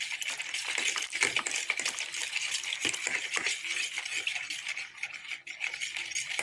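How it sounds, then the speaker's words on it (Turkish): A fork beats eggs for a cheese börek, making rapid, continuous light clinking against a bowl, close and steady, with no voices. "Çatal yardımıyla açıyorum yumurtalarımı."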